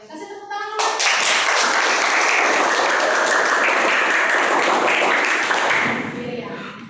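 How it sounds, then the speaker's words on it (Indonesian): A classroom group claps together for a student presentation. The steady, loud applause swells within a second, holds for about five seconds, then fades out. "Kasih tepuk tangan dulu."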